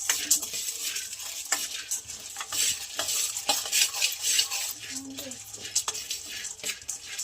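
Chickpeas fry in a pan for a sweet kadubu filling, with repeated close scraping and clinking of a spatula stirring over a light sizzle.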